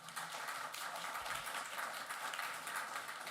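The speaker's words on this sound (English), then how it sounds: "So round of applause" Audience applause at a comic arts festival panel, a steady wash of many hands clapping that fills the whole moment at even, moderate loudness without pause.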